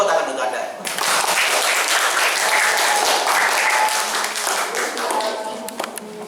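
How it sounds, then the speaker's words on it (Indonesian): A group in a teaching session bursts into loud, dense applause after a short pause. The clapping holds steady for several seconds, then thins slightly toward the end. "Tepuk tangan untuk Anda."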